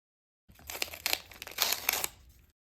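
Several sharp crinkling rips as a McDougall soup packet is torn open by hand at a notch, heard close up in two bursts with no talking.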